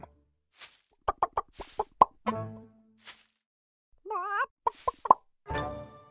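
A cartoon chicken in a children's word game gives a run of short, quick clucks mixed with bright popping plops, ending in a longer squawk, with no talk.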